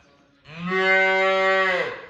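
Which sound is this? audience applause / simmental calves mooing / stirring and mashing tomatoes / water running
simmental calves mooing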